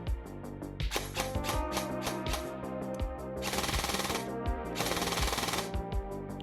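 A Specna Arms SA-X02 EDGE airsoft pistol-calibre carbine fires in continuous mode, rapid mechanical bursts of clacking shots with gearbox whir, loud and close, with brief pauses between strings of fire.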